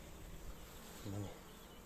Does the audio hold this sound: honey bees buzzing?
yes